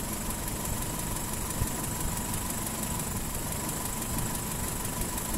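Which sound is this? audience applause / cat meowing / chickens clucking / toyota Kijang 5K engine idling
toyota Kijang 5K engine idling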